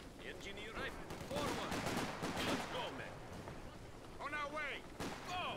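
Mortar and machine gun fire from a Company of Heroes 4v4 battle on the Port of Hamburg map, with distant blasts and rattling bursts that stay under continuous excited talking.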